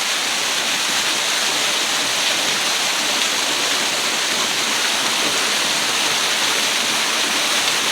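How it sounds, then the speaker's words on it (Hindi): Water pours straight down from above at a waterfall in Tapovan, Rishikesh, a loud, close, unbroken roaring rush that stays steady throughout. "इससे ज़्यादा क्या मैं दिखाऊँ, डायरेक्ट ऊपर से पानी आ रहा है।"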